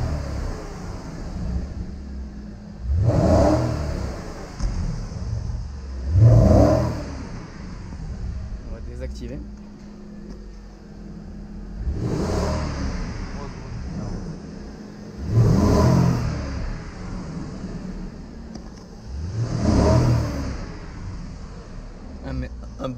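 A Porsche Panamera 4S with a PDK gearbox accelerates in active mode, with about five separate loud engine surges rising and fading every few seconds over a steady low idle.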